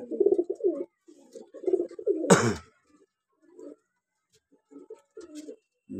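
Pigeons coo softly and repeatedly at close range in a breeding loft, broken by a single sharp flutter or call partway through.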